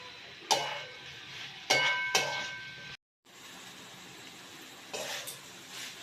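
Spices and chopped tomato sautéing in a pan for a sweet pumpkin and goat-fat curry: a quiet sizzle under several sharp spatula scrapes and stirs against the pan, spaced irregularly with a brief silence between.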